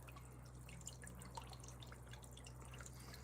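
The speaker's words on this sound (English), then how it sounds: "I love the sound of water sprinkling like that." Water sprinkles and drips in a soft, steady patter, faint and continuous throughout with a few slightly sharper droplet ticks and no voices.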